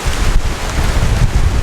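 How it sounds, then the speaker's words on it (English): Strong gusting wind buffets the microphone outdoors at a garden with chickens as a storm approaches, a loud low rumble that swells and dips in uneven waves with no voices. "Super windy."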